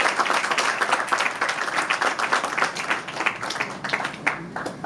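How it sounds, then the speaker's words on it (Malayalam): An audience applauding at the Devadoothan press meet and trailer launch, dense continuous clapping from a crowd in a hall, steady throughout and gradually thinning toward the end. "ഓഡിയൻസ് നല്ലൊരു കയ്യടി കൊടുക്കാം"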